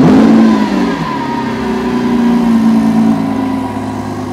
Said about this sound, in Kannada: ನಿಮಗೆ ಇವಾಗ ಕೇಳಿಸ್ತೀನಿ ಎಕ್ಸಾಸ್ಟ್ ಯಾವ ಥರ ಇದೆ ಅಂತ.